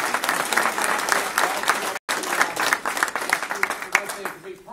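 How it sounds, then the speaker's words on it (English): Applause at a congressional candidate forum, a thick, loud patter of many hands clapping with a brief dropout midway, then thinning toward the end while a voice speaks over it. "Give them a round of applause, please."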